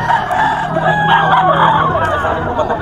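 A rooster crows amid clucking fowl at a busy Bocaue poultry market, loud and close, with crowd noise and other birds behind it.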